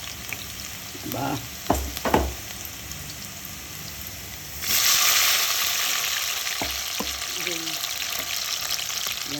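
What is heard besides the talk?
garlic frying in oil on the stove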